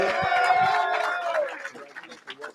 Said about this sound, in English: How about a round of applause to Mr. Julio Martinez?